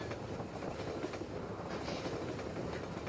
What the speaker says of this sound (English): I was too busy being ran over by the train